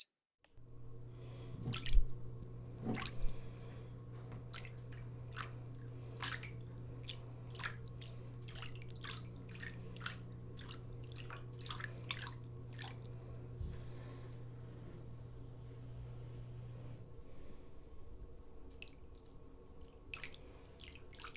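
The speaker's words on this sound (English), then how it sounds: "starts out with a really gentle dripping," Gentle water drips sound in a gallery sound installation, sparse irregular drops over a faint low steady hum, quiet and close with no talk.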